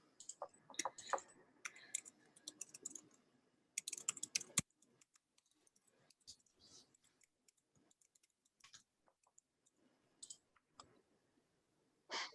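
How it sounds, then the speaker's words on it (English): Quiet, irregular bursts of clicking keystrokes on a computer keyboard, with short pauses between runs of typing. "I'm gonna type it in here."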